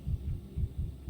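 Heartbeat in the video game Pathologic 3, a patient's pulse heard during an examination: steady low thumps in a quick, regular rhythm, about five beats over a muffled hum, no talking.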